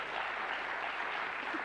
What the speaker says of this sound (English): Well worth a round of applause.